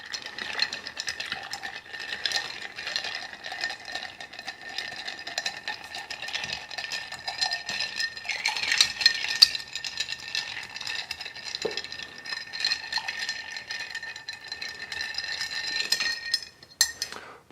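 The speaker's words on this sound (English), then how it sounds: "Probably shouldn't stir this one too much because it's a little bit lower proof." Bar spoon stirring the Lo-Fi cocktail in a glass, a steady faint clinking and rattling of ice that runs continuously throughout, close by and with no voices.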